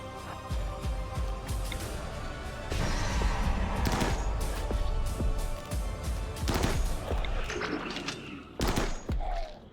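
Rapid gunfire from the Kadath weapon in a video game, a dense, loud stream of shots with crashing impacts, steady through most of the stretch with a few short gaps near the end.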